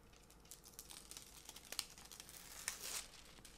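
Backing is peeled off an adhesive sticker sheet, giving faint, close crinkling and crackling with a few sharper ticks, heard alone in a quiet room.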